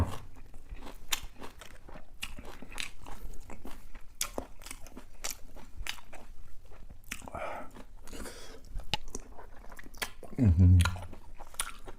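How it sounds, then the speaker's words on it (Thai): Someone eats crunchy fresh vegetables alongside a spicy seafood dipping sauce and stewed beef intestines, with a steady run of close, loud bites and crunchy chewing across the whole stretch and a heavier crunch near the end. "มากินผักพี่น้อง"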